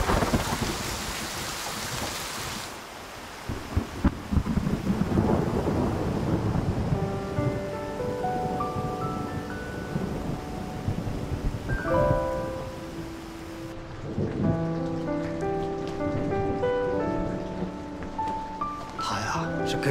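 Heavy rain pours steadily while deep thunder rumbles roll through, and a soft melodic tune later rises over the downpour.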